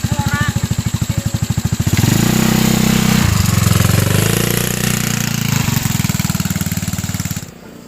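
Motorcycle engine revving and idling close by, a loud chugging rumble with a rapid pulsing beat that steadies into a sustained drone, then cuts off near the end; voices speak briefly in the background.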